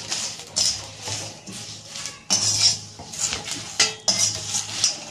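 A metal spoon scrapes and clinks against a pan as spices and bay leaves are dry-roasted for a black masala, giving irregular bursts of stirring knocks and scraping close by, no talk.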